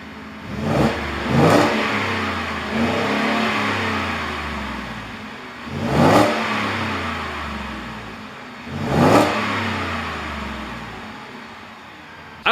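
A stock-exhaust Ford F-150 engine idling nearby, blipped into three sharp revs roughly every three seconds, each rising and falling back to a steady low rumble.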